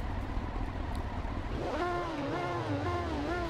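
A Honda CB1000 motorcycle engine in the Ride 2 racing game hums steadily, then climbs into rising, wavering revs, loud and close.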